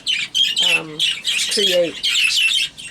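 Pet birds in a breeding shed squawk and chirp back and forth in dense, continuous calls close by, with a person talking underneath.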